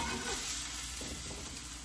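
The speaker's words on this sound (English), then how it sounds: "I'm gonna go ahead and put it in the skillet with the mushrooms" Seared chicken laid into a skillet of mushrooms gives a faint, steady sizzle of frying with soft hiss throughout, heard alone without talk.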